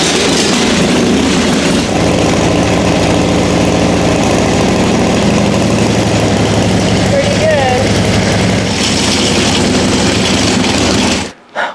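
A Harley-Davidson Dyna motorcycle engine fitted with a homemade stabilizer kit idles on a bench test, a loud, steady lumpy rumble running close by throughout before it is shut off abruptly at the end; talking is heard over it.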